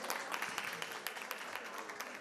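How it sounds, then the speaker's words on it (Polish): Faint, distant audience applause at a folk music festival, honouring a young bagpiper who built his own bagpipes; a dense, even patter of many hands clapping throughout. "brawa dla młodego konstruktora"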